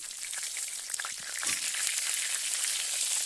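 Cauliflower frying in a hot pan of oil gives a steady broadband sizzle with faint crackles, close and continuous, growing slightly louder partway through.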